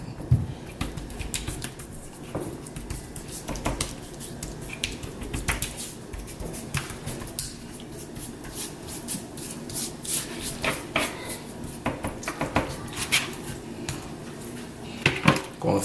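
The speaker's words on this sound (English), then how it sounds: "So you want to just pat it on there." Brown sugar seasoning rub is patted and pressed onto baby back ribs at an outdoor cook, a close run of soft, irregular pats and gritty rubbing strokes with occasional sharper taps.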